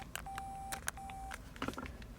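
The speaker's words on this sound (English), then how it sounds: "Let's see if we can get it to beep." Car phone built into a 2001 Mercedes-Benz CL500 emits a quiet series of electronic tones, two longer steady beeps in the middle and short keypad blips before and after, alone in a hushed cabin.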